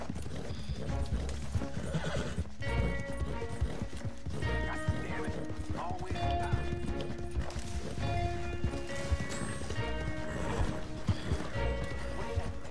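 Horse hooves galloping with steady clip-clop and repeated neighs and whinnies in the video game Red Dead Redemption 2, with busy game sound effects throughout, loud and continuous.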